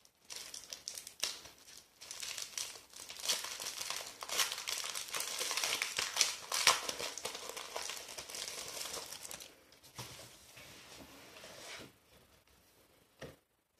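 Crinkling plastic and paper from an Amazon order as it is opened, with a steady run of rustling, tearing and crumpling near the listener that fades toward the end.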